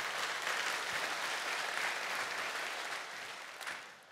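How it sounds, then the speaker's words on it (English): A church congregation claps steadily and fairly loudly, the applause holding for a few seconds before tapering off. "You can clap for that."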